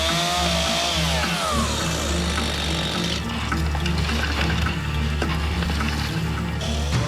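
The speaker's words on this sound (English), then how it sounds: "Otherwise the chainsaw is just going to keep going blunt." A chainsaw runs loudly and steadily the whole way through as it cuts up a boat during a salvage job, its engine whine holding high with slight pitch shifts under load.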